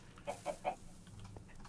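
Chicken in Minecraft giving three short, soft clucks in quick succession, then fainter scattered sounds, quiet and alone.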